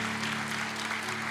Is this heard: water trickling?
no